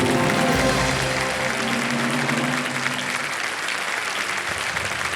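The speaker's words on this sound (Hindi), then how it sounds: "तालियां।" Steady, dense applause from a game-show studio audience fills the whole stretch, loud and continuous without a break.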